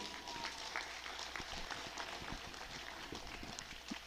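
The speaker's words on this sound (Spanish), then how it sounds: "muchas gracias por los aplausos" Steady applause from a crowd at the opening ceremony of a basketball tournament in Nejapa, a dense continuous patter of clapping that fills the whole stretch without pause.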